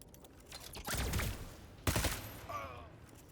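Gunfire in the turn-based game Necromunda: Underhive Wars comes as two loud bursts of rapid shots with crackling impacts, a pause between them, and a lighter metallic rattle after.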